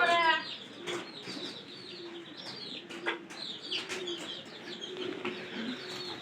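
Pigeons gather for feed, giving soft repeated coos and chirps with brief bursts of flapping wings, fairly quiet and close.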